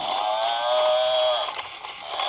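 A battery-powered toy buffalo, blue in colour, gives a long electronic moo that holds steady and then fades, loud and close, followed by a brief quieter tail with no voices.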